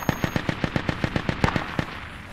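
Rapid machine gun fire from the Project Reality military video game: a steady burst of about a dozen evenly spaced, punchy shots, fairly close and loud, with no talk over it.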